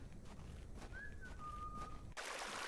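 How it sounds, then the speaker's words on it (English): A thin, wavering whistle in a video game (The Excavation of Hob's Barrow) rises then holds a steady tone for about a second over a low rumbling background, ending with an abrupt shift in ambience. "we heard the whistling"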